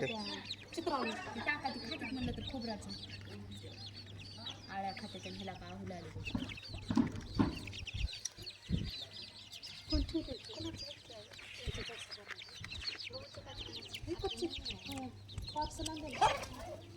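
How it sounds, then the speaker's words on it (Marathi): Chickens and a rooster kept by a grandmother for village poultry cluck and squawk in scattered bursts nearby, while people talk throughout. "कोंबडे घाबरले की ताई आमचे"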